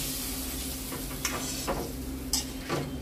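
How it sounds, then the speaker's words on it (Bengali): Cauliflower roast frying in a pan with a little water added, giving a steady loud sizzle and hiss with a few sharp spoon scrapes and knocks against the pan. "এবারে অল্প করে একটু জল দিতে হবে"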